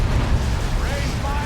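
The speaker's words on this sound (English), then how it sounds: "Last cannon getting some good hits there on the Dreadnought." Cannon fire from the Dawn of War 2 strategy game booms in a continuous rumbling battle mix of explosions and artillery, with a commentator talking over it.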